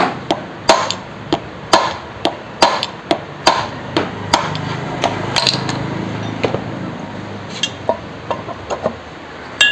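A hammer taps the collar out of a Yamaha R15 wheel hub in sharp metallic strikes, close and irregularly spaced, roughly a dozen blows over steady workshop background noise.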